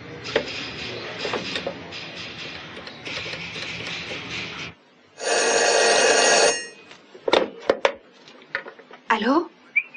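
A telephone rings in bursts for a phone call in an indoor scene, a loud electronic ring followed by a sustained bell burst, then clatter and other sounds; voices speak briefly around it.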